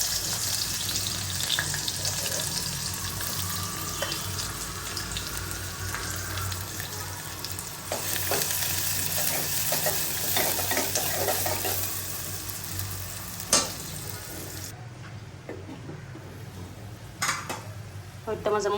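Chopped onion and whole cumin seeds sizzle in hot oil in a pan, making a steady close hiss with occasional clinks of a utensil against the pan. No speech is heard.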